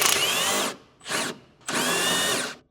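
A power tool with a 14mm socket spins off the lower shock bolt on a 1.8L Honda Civic coupe, three loud close whirring bursts, the middle one short, separated by brief pauses.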